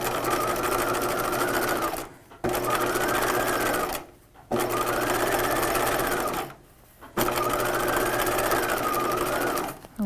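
Sewing machine stitching a dress strap lining a scant eighth inch from the seam line, a loud steady whirring buzz running in long bursts broken by three short pauses.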